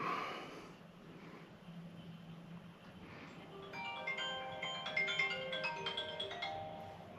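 A phone rings with an incoming call in a garage where a Jeep is being serviced, a melodic electronic ringtone of repeating tones rising over low background noise in the second half.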